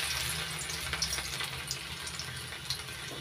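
Minced garlic sizzles and crackles in well-heated white cooking oil, a steady close frying hiss with small spitting pops throughout and no talking.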